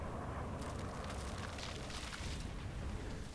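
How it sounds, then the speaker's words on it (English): A Terran nuclear missile strike detonating in StarCraft II, a low rumbling roar of explosion with crackling debris, sustained and fairly faint. "Terrans are launching another nuclear missile."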